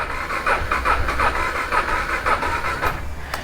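A motorbike engine cranks and tries to start on electric start with no kickstart, a close, repeated churning in a steady rhythm of pulses that never catches into a running idle.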